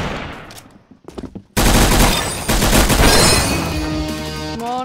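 Rapid gunfire in the Roblox gun game, a few scattered shots then a sudden loud sustained burst of automatic fire, dense and continuous, with a tonal game sound ringing out at the end.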